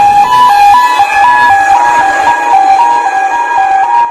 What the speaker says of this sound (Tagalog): makita ang nagahagunos nga fire truck nga nagrespondi sa nagadabadaba nga duha ka mga wing van sa highway